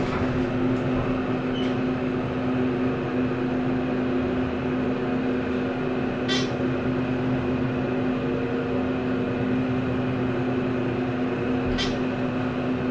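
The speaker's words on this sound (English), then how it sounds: "We'll listen to the motor." Dover Impulse hydraulic elevator at a Homewood Suites hotel, its motor running during a ride up to the third floor as a steady continuous hum with a constant tonal drone, with faint brief clicks over it.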